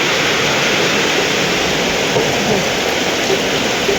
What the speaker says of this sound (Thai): ฝนมันมาทางผิดแหละ